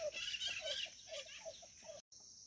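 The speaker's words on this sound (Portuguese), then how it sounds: "Aí dentro eu sei que tem muita galinha." Faint chickens cluck in quick, irregular bursts over a steady background hiss.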